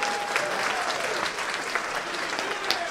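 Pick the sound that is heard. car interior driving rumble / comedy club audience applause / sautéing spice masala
comedy club audience applause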